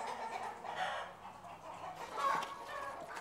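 Chickens cluck softly on deep litter in a poultry house, a quiet scatter of short calls close by with no voices.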